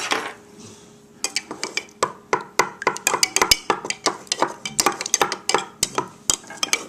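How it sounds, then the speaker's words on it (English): A spoon stirs water around coins in small dishes, giving a quick run of sharp metallic clinks and scrapes against the dish after a quiet start, close and fairly loud with no talking. "And stirring it up."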